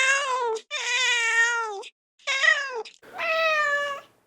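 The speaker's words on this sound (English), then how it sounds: "A black cat crosses in front of you" A black cat meows four times in long, drawn-out, wailing calls with clear harmonic tone, close and loud, separated by short silences, with no voices.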